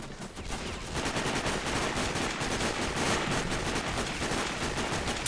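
Dense, continuous automatic gunfire from the video game Sniper: Ghost Warrior, a loud rapid rattle of shots running steadily throughout with no talking.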